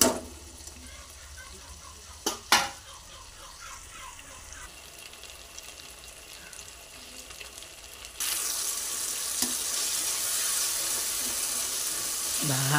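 Tomato pieces cook in a pan for a fish curry, sizzling softly and steadily. Two sharp clinks sound early on, and the frying grows louder and brighter partway through.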